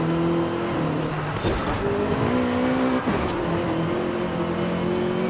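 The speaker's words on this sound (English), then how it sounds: "You can actually hear the turbo too." An MG6 XPower car engine in Forza Horizon 5 revs steadily with shifting tones and a faint turbo whistle, plus a couple of brief whooshing bursts, continuous and fairly loud.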